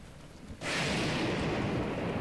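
Lightning strike in Zelda: Breath of the Wild, a sudden loud crack that bursts in and then holds as a sustained roaring, crackling wash of noise until the end.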